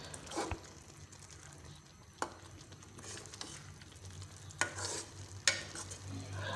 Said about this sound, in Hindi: दूध ऐड करने के बाद हम मज़ीद पालक को भूनेंगे, अच्छी तरह भूनेंगे।